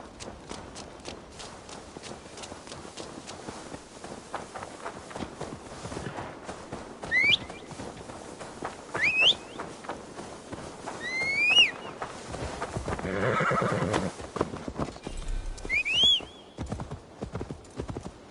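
Horse hooves clip-clop steadily through a ride in the video game Assassin's Creed Valhalla, with several whinnies rising over the even hoofbeats and a stretch of rushing ambient noise midway.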